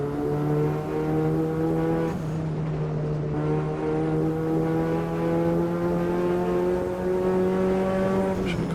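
A race car engine in the Automobilista 2 sim racing game drones loud and steady at high revs, pitch dipping sharply at a downshift and again briefly near the end.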